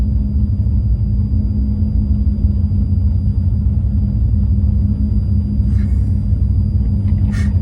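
A $500 Ford Mustang on a drag racing pass, heard as a loud, steady engine drone and deep rumble with no clear revving peaks, and a few faint higher clicks near the end.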